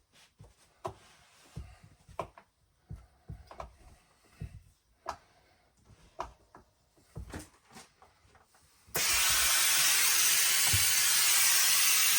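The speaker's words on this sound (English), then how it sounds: "I'm going to give it some steam" Scattered light clicks and taps, then a sudden loud, continuous hiss of steam that keeps going to the end.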